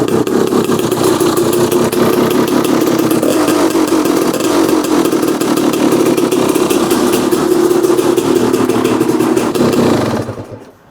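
A 2016 300xcw two-stroke dirt bike idles steadily while warming up, a loud, close, continuous burble that cuts off sharply near the end.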